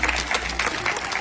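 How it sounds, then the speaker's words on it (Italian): Children at a peace school gathering clap for visiting friends from Rome, a lively burst of group applause with a faint voice underneath. "Facciamogli un applauso agli amici di Roma"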